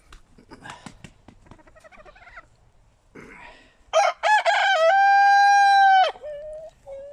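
A rooster crows once, loud and close, in a long harmonic call that trails off, after scattered clucks and faint background sounds.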